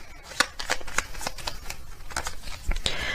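Message cards being shuffled for a reading, a quick run of close, crisp riffling flicks repeating in rapid bursts throughout.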